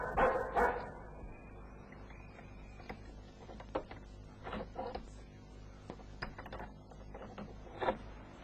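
A dog barks in short, scattered yaps and whimpers, fairly faint and spaced irregularly over several seconds.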